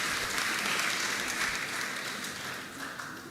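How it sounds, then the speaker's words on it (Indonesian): Dense, sustained applause from a congregation at a Sunday church service, loud and continuous throughout with only a slight easing toward the end. "Tepuk tangan dulu untuk sektor bakti."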